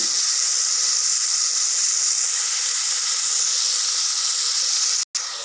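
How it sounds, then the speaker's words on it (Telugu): Cauliflower frying in oil with salt for a curry gives a steady, loud hiss of sizzling that runs unbroken, then drops out sharply for a moment near the end before resuming. "క్యాలీఫ్లవర్ చక్కగా ఆయిల్లో వేగుతున్నాయండి"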